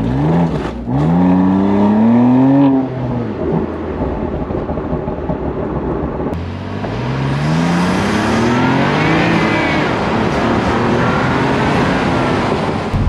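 A 2020 BMW M2 CS straight-six engine revs hard through two long full-throttle pulls, its pitch climbing steadily with a brief drop at the gear change, loud and close with no voices.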